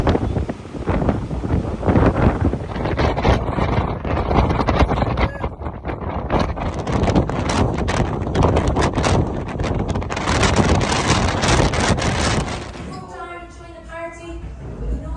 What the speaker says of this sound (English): hurricane type winds on a boat